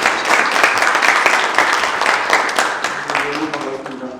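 An audience at a 2024 Korea–Japan international symposium on organ donation claps continuously, a dense and fairly loud round of applause that holds steady and then begins to thin out toward the end.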